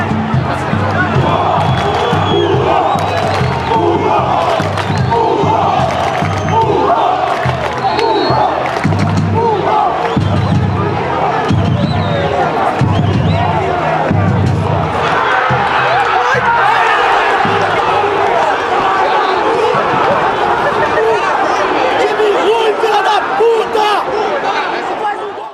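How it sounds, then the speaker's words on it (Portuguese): Guarani football fans protesting in the stands at a match against Barueri, a loud, dense crowd roaring, chanting and shouting in rhythmic surges for the whole stretch, with voices talking over it. "A torcida muito nervosa se alternava entre comemorações e reclamações"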